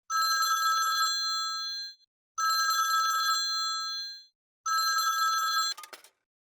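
A telephone bell rings in three long bursts separated by short pauses, bright and clear, ending with a click as it is picked up.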